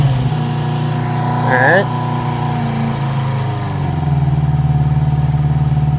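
A 1973 Honda CB350 Four motorcycle engine idles steadily close by, a smooth, even mid-pitched hum with a brief revving swell early on. Someone speaks a word over it.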